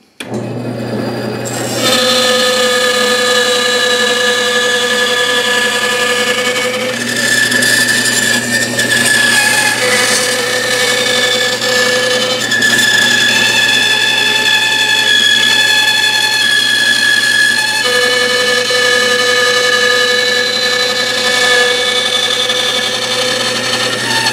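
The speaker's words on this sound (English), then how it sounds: "my trusty saw I've been using since the 70s, Sears saw" A Sears power saw in use since the 1970s cuts through wood for carving a Native American bust, a loud, steady whining drone with shifting tonal pitch that runs continuously for over twenty seconds.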